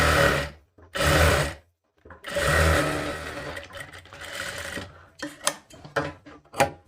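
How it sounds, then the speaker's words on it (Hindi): A sewing machine runs in several bursts, stitching a line over an existing seam on a katori blouse, with short pauses between runs and a few clicks near the end. "यहाँ से सिलाई लगा देंगे, सिलाई के ऊपर सिलाई"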